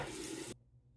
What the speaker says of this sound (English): I'll rinse the razor again